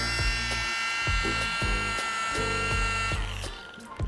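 Mini rotary polisher running on car paint, a high-pitched whine held close-up with short bursts and pitch shifts as it works tight areas, then cutting off near the end.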